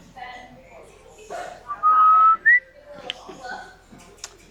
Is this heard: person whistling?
yes